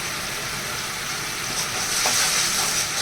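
Poppy seed paste fries in a pan, giving a continuous bright sizzle that swells slightly near the end, heard alone at moderate loudness.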